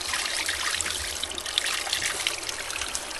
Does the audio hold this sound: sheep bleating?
no